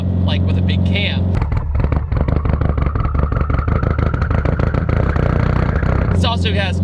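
Built 800HP Subaru STI with big cams, fully built motor with CP pistons and Manley rods, running with a loud, choppy lumpy idle and occasional blips, close by, with speech over it.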